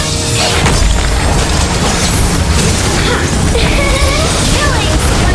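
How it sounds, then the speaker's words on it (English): A turret is destroyed in the mobile game Mobile Legends: Bang Bang, giving a loud booming crash with crumbling, shattering debris over busy in-game effects and a voice. "Your team destroyed the turret."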